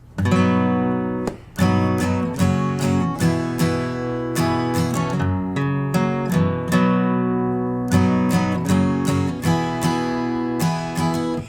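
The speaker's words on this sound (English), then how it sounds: "I do add in some extra down-up strums to kind of keep in time with the song better" Acoustic guitar chords from a song strummed in a quick, driving rhythm, bright strokes alternating down and up with brief pauses between chord changes.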